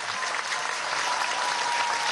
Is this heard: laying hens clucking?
no